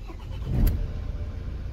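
Ford Transit Mk7 van engine cranking and catching, a short low rumble swelling over about half a second and then settling into a steady idle.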